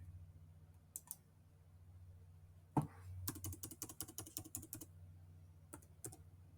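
Someone types a username and password on a computer keyboard: quiet, close clicks with a couple of isolated taps, then a quick, uneven burst of keystrokes and a few final presses over a soft room hum.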